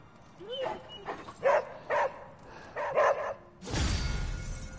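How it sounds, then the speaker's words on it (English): A dog in the video game Marvel's Midnight Suns gives a string of close, short yips and barks, about five in a row, followed by a burst of noisy clatter, with no talking. "Good puppy."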